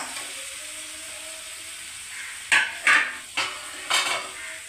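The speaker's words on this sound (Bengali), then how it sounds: "এবার কাঁকড়াটাকে দিয়ে দিলাম।" Crab dropped into a hot pan while cooking, a few sharp clattering knocks and hisses over a quiet background sizzle, close and fairly faint.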